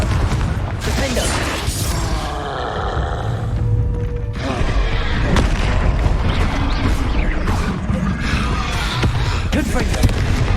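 The Confringo blasting spell in the video game Hogwarts Legacy goes off amid a chaotic duel, with booming impacts, crashes and magical whooshes layered over continuous battle noise. Brief voices sound through the fighting.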